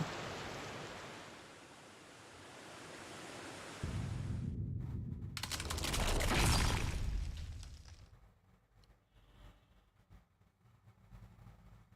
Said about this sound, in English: The river's flowing again.